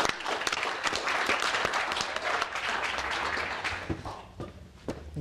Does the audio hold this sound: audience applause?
yes